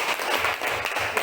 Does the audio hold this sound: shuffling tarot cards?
no